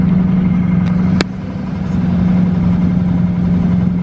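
A broken-down Ford F-250 truck idles steadily with a low droning hum, one brief sharp click near the middle, then the rumble settles slightly quieter and continues evenly.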